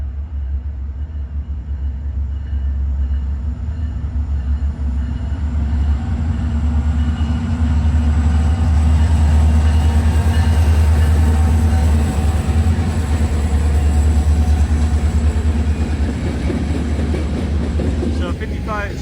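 Train L432 rolls past on railroad tracks at night, a steady loud rumble with clickety-clack of wagons over the rails, sustained and close throughout, with no talk over it.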